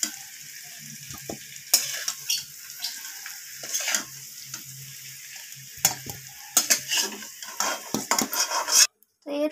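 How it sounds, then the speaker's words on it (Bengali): Golden fried potatoes scooped out of a kadai of hot oil into a bowl: repeated sharp metal clinks and scrapes of a spatula against the pan over a continuous sizzle, close and fairly loud, with no talking. "এরপর আমি আলুগুলোকে একটা পাত্রে উঠিয়ে"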